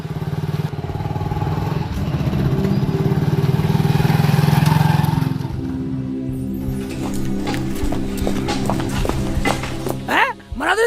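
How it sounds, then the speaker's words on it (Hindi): A motorcycle engine drones loud and steady as the bike is ridden, swelling then dropping away midway, after which people talk and shout over a lower hum. "बाइक आगे न सरक रही तुमसे बिल्कुल भी"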